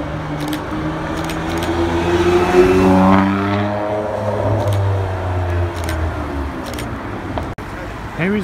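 A supercar engine passes with a loud, beefy drone whose pitch sweeps as it goes by, in a street setting with steady traffic noise around it.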